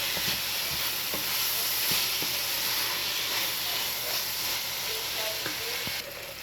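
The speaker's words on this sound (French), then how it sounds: "So I'm going to fry the tomato fruit and tomato paste plus spices for 3 to 5 minutes." Tomato, tomato paste and spices frying in a pan for fried rice, a steady close sizzle and hiss with small pops and occasional stirring scrapes.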